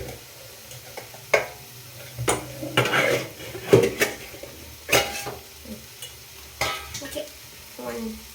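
A utensil clinks and scrapes against a small pan while scooping out turmeric-washed prawns, giving scattered metallic knocks and clatters over a faint background hiss, with a brief spoken word.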